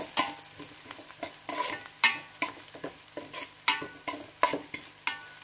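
A spatula stirs tamarind into a frying curry in a pan, giving repeated scraping strokes in an uneven rhythm over a soft sizzle, close and moderately loud.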